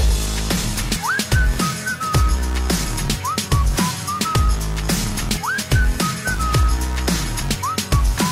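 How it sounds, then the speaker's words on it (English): Short melodic whistled phrases rising and gliding, repeated several times over a steady rhythmic music backing with a thumping beat. "Can you blow my whistle, baby"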